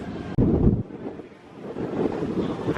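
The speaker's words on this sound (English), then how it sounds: "Very windy." Strong wind buffets the microphone on a rainy day at EPCOT, a sudden loud gust followed by a lull and then a rising, rushing roar, heard close and alone.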